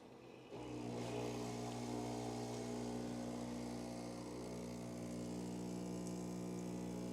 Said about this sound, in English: And let's pull the shot.